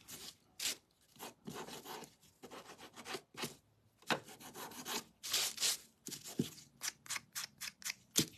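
Sandpaper rubs across a decoupage wooden bird house in short, uneven strokes, close and raspy, with brief pauses between passes and no talking.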